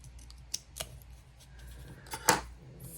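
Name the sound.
scissors cutting off a small piece of paper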